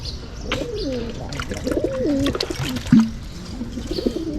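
Pigeons coo in repeated low, throaty phrases, close by, with a brief sharper bird call partway through and light background chirps.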